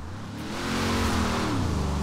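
Ford Transit van engine in Forza Horizon 4 revving up from low rpm, a smooth rising engine drone that swells and holds steady, close and alone.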